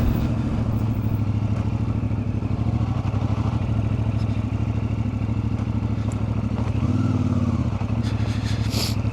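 A 2025 CFMOTO 450MT motorcycle idles and rumbles steadily at close range as it pulls over to park, its engine note dipping and shifting briefly near the end, with no talking.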